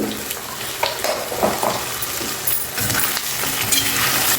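Capsicum and potato curry frying in a pan, with a steady sizzle throughout and occasional stirring scrapes and clinks of a utensil against the pan.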